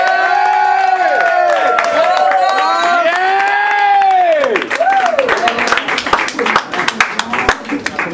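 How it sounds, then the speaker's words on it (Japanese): A crowd claps and cheers at a Barneys New York event, with a loud sung or sustained vocal melody over the first half, then scattered clapping, whoops and lively voices taking over. "大きな拍手お願いします"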